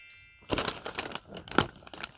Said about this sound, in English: Oh, this feels interesting. Okay. Crinkling.